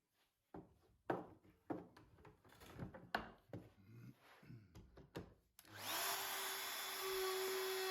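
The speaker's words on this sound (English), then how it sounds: "you push the router towards you when you go into the wood" A handheld router cuts wood in a box joint jig: several short knocks and handling clatters first, then the motor spins up into a steady, loud high whine that holds to the end.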